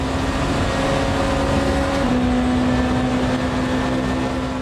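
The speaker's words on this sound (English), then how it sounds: "You can hear that Cadillac engine roaring." A Cadillac prototype race car engine in the racing game Le Mans Ultimate, a sustained droning roar at steady high revs with a brief pitch shift midway, heard alone and fairly loud.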